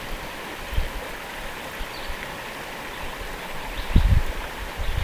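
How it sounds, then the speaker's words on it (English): Creek water runs in a steady, close broadband rush, with a few low splashes and knocks rising briefly over the flow on a hot day outdoors. "Creek feels good."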